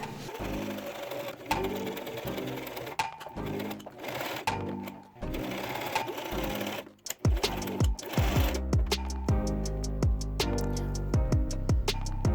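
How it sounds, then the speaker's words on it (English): A sewing machine hems the sides of a fabric tiered skirt, running in steady bursts of rapid mechanical stitching with brief pauses between runs, close and fairly loud with no talk. "Now hemming these sides."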